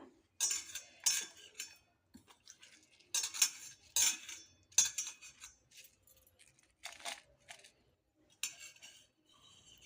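Soaked red chillies, including Byadgi chillies, being spooned into a mixer jar, with a quick series of close metallic clinks and scrapes of a spoon on steel separated by short silences.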